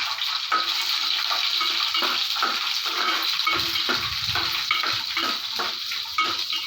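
Green chilli pieces, bay leaves and biryani spices frying in oil in a pan, a steady close sizzle with soft clinks and scraping of stirring.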